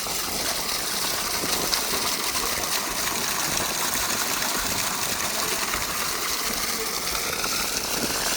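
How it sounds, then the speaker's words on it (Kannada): A strong, steady rush of water gushes continuously and loudly from a solar-powered borewell pump pipe drawing from 280 feet through a 2.5-inch outlet, with a mechanical hum underneath and no voices. "ಇನ್ನೂರ ಎಂಬತ್ತಡಿ ಎರಡೂವರೆ ಇಂಚ್ ಫುಲ್ ಪ್ರೆಸರಾಗಿ ನೀರು ಬರ್ತಿದೆ"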